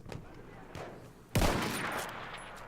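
Gunfire in the Battlefield 1 beta on a desert map: a sudden loud crack of shots bursts out and rings on as a dense rattle, with softer thuds of game action before it.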